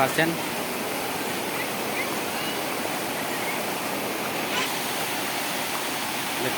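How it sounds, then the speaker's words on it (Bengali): Floodwater rushing fast over a road beside waterlogged fields in Bahadurpur, Silchar, a broad, steady roar of flowing water, loud and unbroken, with faint voices in the background. "খুব দ্রুত গতিতে জলটা ছুটছে রাস্তার উপর দিয়ে, দ্রুত গতিতে জল যাচ্ছে"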